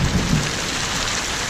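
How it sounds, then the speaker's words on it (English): Heavy rain and hail pour down during a thunderstorm, a dense, steady roar with a low rumble of thunder underneath, close and loud throughout. "It's thundering."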